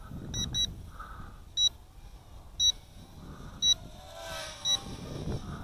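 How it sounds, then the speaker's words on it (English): Repeated short high-pitched electronic beeps from a Juncheng 3015-2 drone in flight, roughly one per second, over faint background hum and motor whir. "I don't know what that beeping is."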